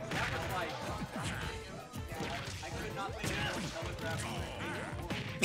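Hits and whooshes from a forward smash striking the bike in a competitive Super Smash Bros. match, Ike versus Fox, a sharp crash among rapid game effects and excited commentary talking throughout.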